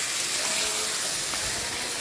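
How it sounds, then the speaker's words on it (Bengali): Marinated mutton hitting a hot kadai, a steady broadband sizzle and hiss that stays loud and even throughout with no voices. "এবার আমি 1 ঘন্টা চাপা দিয়ে রেখেছিলাম খাসির মাংস, এগুলো আমি এবার কড়াইতে দিয়ে দিব"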